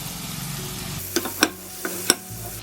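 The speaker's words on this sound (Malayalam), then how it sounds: "ഇതിലേക്ക് ഞാൻ 2 ടേബിൾ സ്പൂൺ ബട്ടർ ഇട്ട് കൊടുക്കുകയാണ്." Two tablespoons of butter melt in a pan on the stove, a soft steady sizzle broken by a few sharp clinks of a utensil against the pan, close and quiet with no talking.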